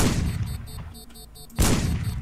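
A gunshot in the stealth game Sneak Thief: a dense burst of fire at the start, a quieter stretch with faint repeating tones, then a second loud blast that rings on to the end.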